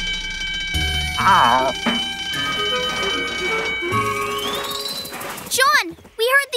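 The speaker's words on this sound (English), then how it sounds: "we heard the alarm!" A bright bell-like alarm rings amid a busy soundtrack of music and effects from the cartoon Dino Ranch, followed by quick warbling electronic tones near the end.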